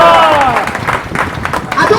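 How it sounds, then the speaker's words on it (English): Audience applause for a vice president at a gathering, dense clapping and crowd murmur filling the room at close range, with voices talking over it. "Please let's clap for him"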